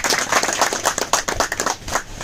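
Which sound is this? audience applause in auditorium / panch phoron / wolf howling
audience applause in auditorium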